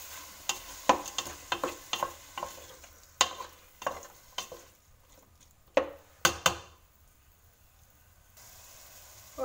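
Tuna with onion and pepper cooks in a pan, with a soft sizzle under a run of sharp, irregular scrapes and clacks as a utensil stirs and pushes the food, fairly close and moderately quiet.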